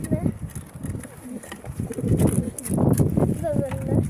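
Adana diving pigeons coo repeatedly in a close, busy loft, soft low throaty calls overlapping with rustling and background voices.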